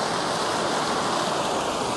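Close, steady rush of flowing water runs without a break, a broad even wash like a stream or small waterfall, with no voices over it.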